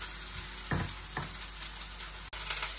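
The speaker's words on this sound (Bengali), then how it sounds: "তেল দিয়ে দিলাম, পেঁয়াজ কুচি দিয়ে দিলাম, কাঁচামরিচ দিয়ে দিলাম" Onion and green chilies frying in oil in a home kitchen, a steady close sizzle with a couple of brief stirring scrapes partway through and a momentary drop near the end.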